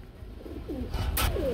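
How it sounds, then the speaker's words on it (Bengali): Black nun pigeons at a pigeon market giving a couple of short soft coos, close against a low background murmur and a brief rustle. "খুবই সুন্দর এক জোড়া ব্ল্যাক কালার নান কবুতর রয়েছে"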